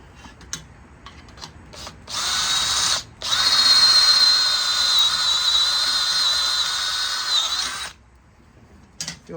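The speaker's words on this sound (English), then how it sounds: "We're gonna drill this out." A power drill bores holes in a Hurst shifter bracket for a 1970 Ford Falcon, one loud close high-pitched whine that starts briefly, stops for a moment, then runs steadily for several seconds before cutting off.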